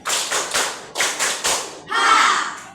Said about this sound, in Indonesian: 3, tepuk 1 kali.